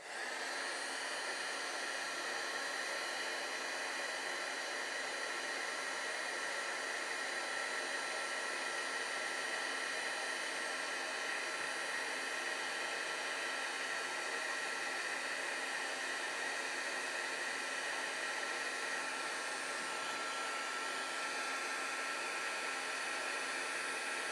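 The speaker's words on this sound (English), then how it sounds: "I like this WAGNER option for my heat embossing. You're going to hold it about 1 inch away." A Wagner heat embossing tool blows hot air steadily for a long stretch, held about an inch away, a constant breathy whir like a hair dryer, close and unbroken.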